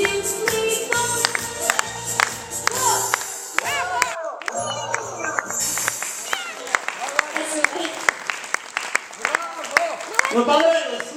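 An audience applauds after a children's song at a composer's creative evening in Moscow's Central House of Folk Arts. Scattered clapping and crowd noise mix with the tail of the music, and voices talk over it.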